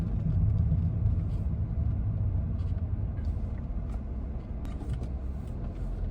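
Car driving through city traffic, a low steady interior rumble with occasional faint clicks and road noise, alone without talk.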